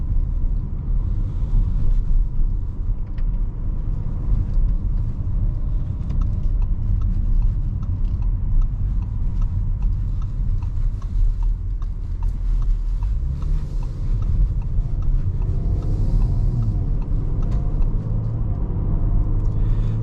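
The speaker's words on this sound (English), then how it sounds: "even in comfort mode, you do get a little bit of noise from the exhaust." A 2023 Audi RS 5 Sportback driven in comfort mode, its exhaust giving a steady low rumble under constant road and cabin noise, swelling slightly near the end with no talking.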